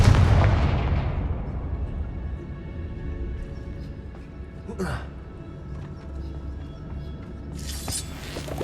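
A Confringo fire spell explodes in Hogwarts Legacy: a loud low boom opens the clip and decays, with a sharp burst near the middle and a bright crackle toward the end over a rumbling game soundscape.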